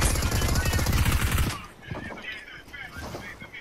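Rapid automatic gunfire in the Fortnite video game, a dense, loud burst of shots for about a second and a half, then scattered fainter shots and game sounds, with a voice speaking.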